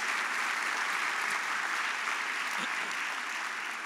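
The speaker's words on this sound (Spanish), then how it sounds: "¿Qué tal si le damos un aplauso de gratitud al Señor por nuestras familias?" A church congregation applauds together in gratitude during a service. The clapping is even and sustained, a broad, continuous wash of many hands throughout.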